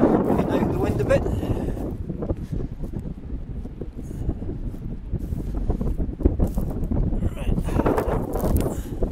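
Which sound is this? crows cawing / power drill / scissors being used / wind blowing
wind blowing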